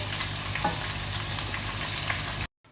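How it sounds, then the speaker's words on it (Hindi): Chicken pakoras deep-frying in hot oil, a dense, even bubbling hiss held steadily up close before stopping abruptly. "यहाँ आप देख सकते हैं माशाल्लाह से पकोड़े हमारे बहुत अच्छे से फ्राई हो रहे हैं"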